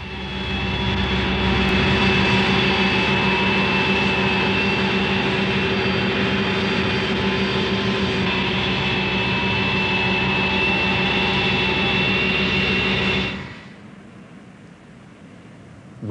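A large plane flying a zero-gravity flight gives a loud, steady engine roar inside the cabin for most of the stretch, then drops sharply to a low hum near the end.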